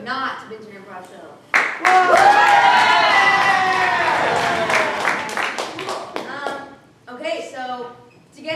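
Audience at an improvised Shakespeare comedy show bursts into loud, sustained applause and cheering that swells and fades over several seconds, framed by a host talking before and after.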